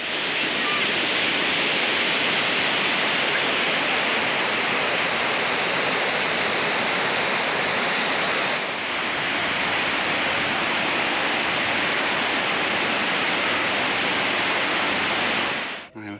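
A steady, loud rushing roar of falling water fills the scene without pause, then cuts off abruptly.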